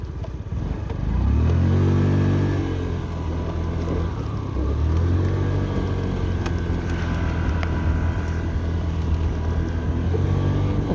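A Honda Dio AF68 petrol fuel-injected scooter engine catches after a brief starter whir, then settles into a steady, close idle with a low throbbing hum and a slight rise in revs midway.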